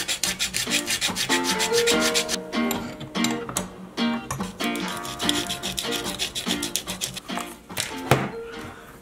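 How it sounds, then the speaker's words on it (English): A carved wooden fishing lure is sanded by hand, with steady rhythmic rasping strokes, loud and close, repeating in quick back-and-forth bursts with brief pauses. "Now we just need to sand it down."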